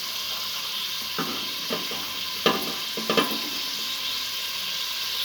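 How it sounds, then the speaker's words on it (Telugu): Onions, chillies, tomatoes and carrot fry in a pan with a soft, constant sizzle, while a few distinct knocks and scrapes from stirring come through at close range. "ఇవన్నీ ఒకసారి బాగా మిక్స్ చేయాలి."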